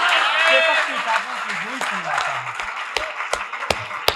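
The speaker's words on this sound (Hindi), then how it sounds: "अरे तालियों की गूंज से हौसला बढ़ा दो आप" Audience applause at a Hindi patriotic poetry recital rises as a broad, steady patter that fades while a voice recites over it, with a few sharp taps near the end.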